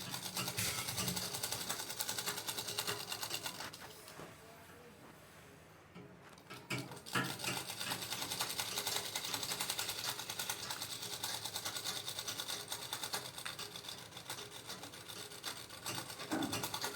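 A sewing machine stitching down the folded hem of a semi Patiala salwar, a steady close whirring run that drops out briefly around the middle before resuming, with no voices.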